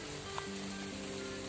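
Rain falls steadily during a night storm while fishing, a dense, even wash of sound with no talking.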